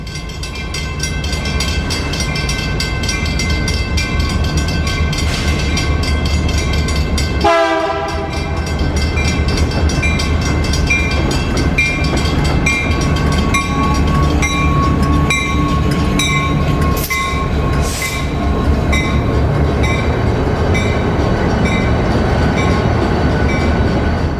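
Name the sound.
intermodal freight train led by Southern Pacific diesels, horn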